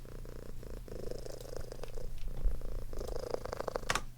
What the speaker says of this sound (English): This small lawnmower purr that she has.